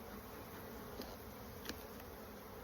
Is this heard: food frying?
no